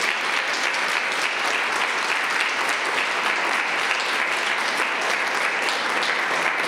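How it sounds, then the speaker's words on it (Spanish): A church congregation claps together in dense, sustained applause, loud and steady from start to finish with no pauses. "¿Cuánto le dan un aplauso al Eterno?"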